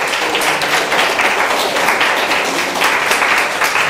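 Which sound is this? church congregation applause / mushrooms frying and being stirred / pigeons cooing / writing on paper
church congregation applause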